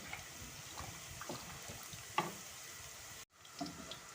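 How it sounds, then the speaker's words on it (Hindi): A spoon stirs kadhi in a cooking pot over a low bubbling, sizzling bed, with soft scraping strokes that cut out abruptly near the end before resuming faintly. "इसमें भी हम साथ के साथ चम्मच हिला रहे हैं।"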